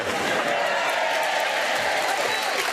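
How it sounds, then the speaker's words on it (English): A studio audience at a comedy quiz show gives a dense, steady round of clapping with crowd murmur throughout. "Very lukewarm round of applause."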